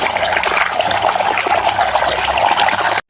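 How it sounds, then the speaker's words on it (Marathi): Water gurgling and trickling steadily as taro leaves are washed in a large basin of water, a continuous close splashing flow with no talk, stopping abruptly at the end. "मोठ्या पाण्यामध्ये तू ते पाणी बघायचं असं खळखळ खळखळ चालू आहे"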